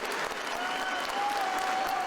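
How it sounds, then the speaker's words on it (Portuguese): An audience applauds after a youth orchestra concert in Resende, a steady, dense wash of clapping from a large crowd, full and continuous without a break. "Aplausos orgulhosos de uma plateia que representa uma cidade inteira"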